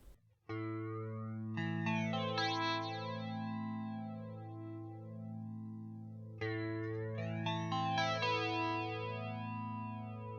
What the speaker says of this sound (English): let's go ahead and just take a look at the flanger on clean for a second.